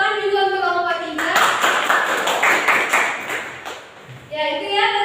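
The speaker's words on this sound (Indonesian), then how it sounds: "beri tepuk tangan juga untuk kelompok 3" Students clap for group 3 during a classroom microteaching session, a burst of mixed clapping lasting about three seconds between stretches of talk.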